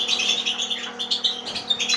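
Small birds in an aviary after their molt chirp and tweet in quick, overlapping bursts, close and fairly loud above a faint steady hum, with no talking.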